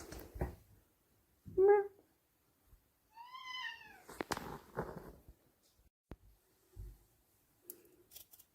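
A cat meows clearly a couple of times in a quiet room, a short high-pitched mew followed by a longer drawn-out call, with scattered clinks and small handling noises around it.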